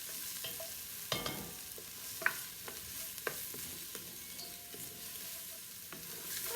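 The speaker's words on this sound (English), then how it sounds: "Okay, I just added the garlic. Stir these up a little bit." Garlic sizzles steadily in a hot pan alongside browning onion for a crab red sauce, with a spoon stirring through it in scattered sharp scrapes and clicks, close and without talk.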